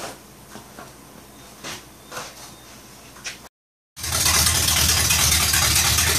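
A 1972 Pontiac Trans Am with a carburetor, run for the first time in almost two years: faint clicks, a brief silence, then a loud, steady running roar that continues to the end.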